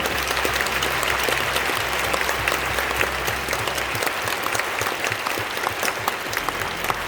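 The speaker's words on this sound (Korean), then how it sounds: "국군과 미국 참전용사분들의 희생과 사랑에 대한 보답으로 한 번 더 큰 박수를 부탁드립니다." An audience at a church memorial service for Korean and American war veterans gives sustained, loud applause with dense clapping throughout, and no voices stand out.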